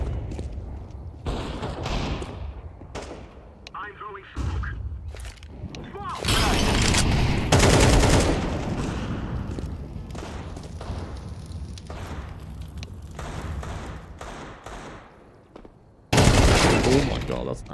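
Bursts of automatic gunfire and heavy explosive booms from a grenade in a first-person shooter game, loud and repeated, with players talking over the action.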